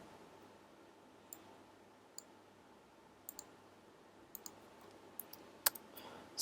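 A series of sharp, quiet computer mouse clicks, single and doubled, spaced irregularly across a faint steady hum while configuring a Hyper-V virtual network on Windows Server 2012 R2.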